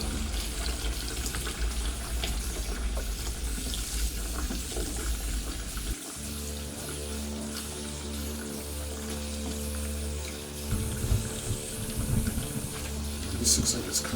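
Hot tap water runs steadily and close over plastic model kit parts as release agent is rinsed off, with a rougher splashing change partway through.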